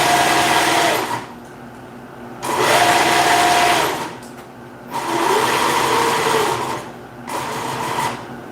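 A sewing machine stitches through a bulky liner in three loud, close bursts of rapid whirring, separated by short quiet pauses.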